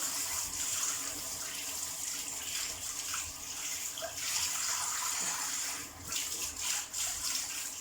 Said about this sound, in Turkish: Güzelce duru suyla temizliyorum.